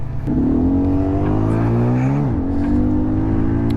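Yamasaki YM50-RE moped engine pulling up a hill in fourth gear, a steady buzzing drone that rises in pitch, dips briefly and then holds steady, loud and continuous with no talking.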